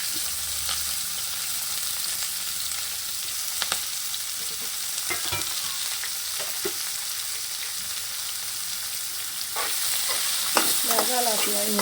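Onions and green chillies fry steadily in a pan, sizzling throughout with occasional scrapes and clinks of a spoon stirring them, close and continuous with no talking.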